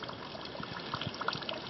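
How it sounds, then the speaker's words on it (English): Spring water flows out of a rock at a mountain water source on the Appalachian Trail in Georgia, a faint, continuous trickle and gurgle heard close up with no voices. "That water that's flowing out of that rock"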